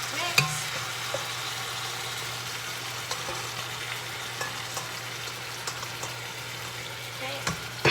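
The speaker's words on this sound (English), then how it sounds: "now that my sugar is browned, I'm adding in my chicken" Chicken pieces frying in browned sugar and oil for Trinidadian pelau, a steady broadband sizzle with occasional clinks and stirring knocks, close and continuous, under a faint low hum.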